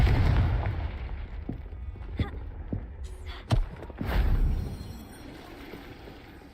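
Confringo fire spell explosion in Hogwarts Legacy, a sharp blast about midway through, with smaller pops and rumbling game effects around it.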